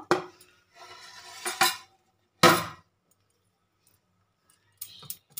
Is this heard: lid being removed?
yes